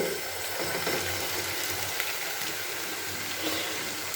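Cauliflower pakoras fry in hot oil with a dense, steady sizzle and crackle, close and continuous, with no talking over it.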